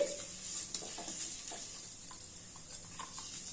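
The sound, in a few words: mustard seeds, cumin, urad dal and garlic frying in oil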